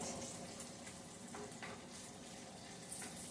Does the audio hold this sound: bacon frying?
yes